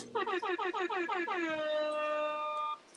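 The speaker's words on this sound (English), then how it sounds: "My man giving himself air horns" A few rapid air horn blasts stutter in quick succession and then stretch into one long, steady blare that cuts off abruptly, clear and loud with nothing else underneath.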